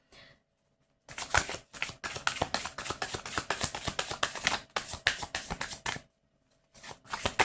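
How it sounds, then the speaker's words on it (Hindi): A deck of tarot cards is handled and drawn from a pile, giving a fast run of crisp papery flicks and riffles that starts after a brief pause, stops, and picks up again near the end, close and fairly quiet. "पहले पाइल नंबर 1 से मैं कार्ड निकालती हूँ।"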